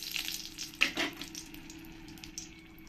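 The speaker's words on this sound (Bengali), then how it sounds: "শুকনো লঙ্কা দিয়ে ভালো করে একবার নাড়িয়ে দেব।" Four dried red chillies fry in hot oil in a pan, a faint steady sizzle with one or two brief stirring scrapes near the start.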